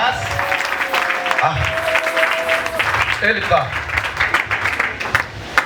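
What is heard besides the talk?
congregation applause in church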